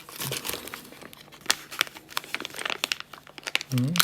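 Plastic Ziploc bags holding parts for a Lego caboose kit rustle and crinkle up close in quick, irregular bursts of handling.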